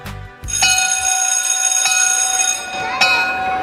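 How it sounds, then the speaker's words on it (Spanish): A school bell or electric buzzer rings for recess at a Spanish primary school, a loud sustained metallic tone with strong overtones that holds for several seconds and restarts once near the end. "Una campana o un timbre nos avisaba que había llegado la hora del patio."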